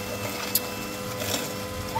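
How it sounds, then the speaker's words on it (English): Steady mechanical whirring and grinding of an Aicok juicer pressing celery into juice and dry pulp, a constant hum with faint crunchy ticks throughout. "it's getting the juice out and it's putting out quite a dry pulp"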